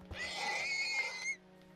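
Minecraft horse giving a single whinny, a loud, close, quavering neigh lasting about a second before cutting off, heard alone over a faint steady hum.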